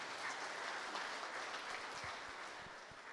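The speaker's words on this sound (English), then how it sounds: "give a round of applause to that planning team for this assembly" Faint, steady applause from the congregation at a Baptist Union of Southern Africa assembly, continuous clapping for the planning team heard at a distance.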